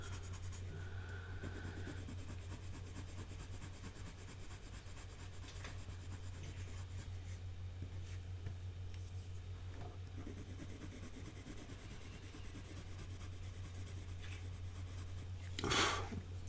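Mitsubishi Uni colored pencil shades on paper with a soft, continuous scratchy rubbing that runs steadily throughout, faint and close, over a low background hum.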